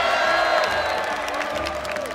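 A capacity crowd at the PAX Arena in Boston, gathered for the Super Smash Bros. Ultimate finals at PAX East, cheers and whoops loudly, a dense continuous roar with scattered shouts and some clapping.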